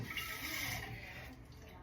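A little water is poured into a tin, making a faint, brief splashing trickle that fades out quickly.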